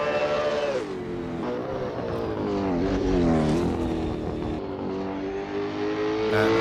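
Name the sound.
V8 race cars on cooldown lap, sim racing game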